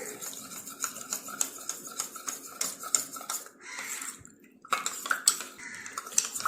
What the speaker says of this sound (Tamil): லம்ஸ் இல்லாமல் நல்லா மிக்ஸ் பண்ணிக்கோங்க.